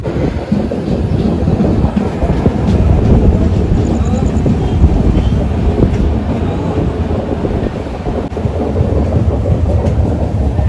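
A passenger train rolls on rails between Haldwani and Dehradun at night through forest, giving a loud, continuous rumble with steady rattling throughout, heard from inside the carriage.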